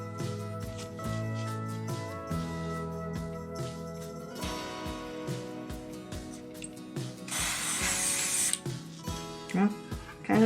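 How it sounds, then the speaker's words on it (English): A short hiss of spray varnish from an aerosol can bursts out near the end over a cottonwood bark carving, loud and broad, following clicks and handling noises. "Give this a little spritz and compare it."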